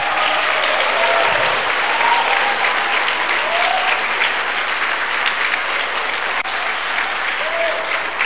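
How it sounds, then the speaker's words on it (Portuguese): Audience applause at a church conference, dense sustained clapping from a large crowd filling the whole stretch at an even, loud level, with a few faint voices mixed in. "Eu gostaria que vocês aplaudissem ele."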